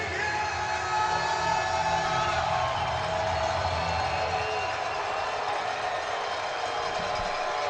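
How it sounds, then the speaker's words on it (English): An arena football crowd in Sioux Falls roars steadily and loudly, a sustained wash of cheering and noisemaking from the stands that holds at full volume without letting up. "Crowd making noise here in Sioux Falls."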